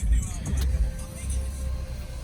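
A Mercedes-AMG A35 4Matic started with keyless start, a low engine rumble firing up and settling into a steady idle, close and fairly loud, with a voice briefly over the start.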